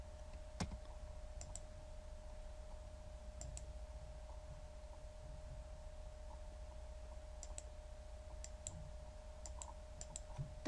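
Quiet, sparse mouse clicks in graphics software, some in quick double pairs, over a faint steady hum of a computer room.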